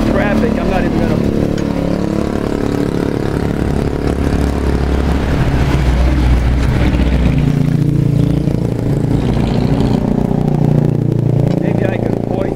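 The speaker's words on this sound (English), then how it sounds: "I'm not gonna make an attempt even to talk with all the traffic." Heavy roadside traffic in Bulacan, Philippines, a loud, steady drone of motorcycle and car engines passing nearby, with rising and fading engine noise and no break in the din.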